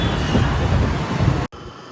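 A departing train gives off a loud, steady broadband rumble and rattle, heard up close. It cuts out sharply for a moment before returning more quietly.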